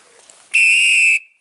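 A single loud, steady blast from an Acme Thunderer whistle with a grip, lasting under a second and heard alone with a quick clean cutoff.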